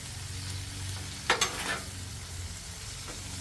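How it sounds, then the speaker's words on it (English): Ground hamburger, noodles and vegetables for a chow mein hot dish are folded together in a hot pan, giving a steady close sizzle with a few scraping spoon strokes. "we're gonna just go ahead and fold that in"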